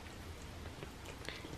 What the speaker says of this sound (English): So far everyone's eating it.